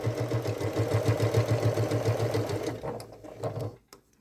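A sewing machine stitching a fish-shaped Christmas stocking for a cat, a fast, even mechanical chatter running steadily for a few seconds before slowing to a stop, with a few light clicks at the end.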